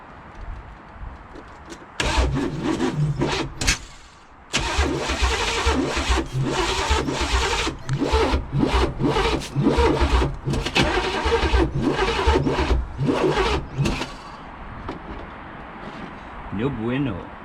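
The 5.7-litre V8 of a 1985 Pontiac Trans Am that has sat for seven years cranks on a fresh battery in several long, loud bursts with short pauses between them, turning over without catching.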